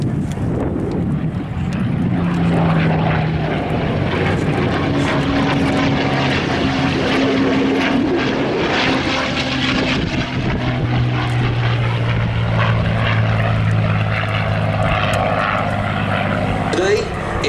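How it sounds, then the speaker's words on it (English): A wartime veteran Spitfire fighter in Soviet colours drones overhead with a steady propeller engine note, loud and sustained throughout, with wind buffeting the microphone and a voice talking over it. "It's one of the most authentic wartime veteran Spitfires flying"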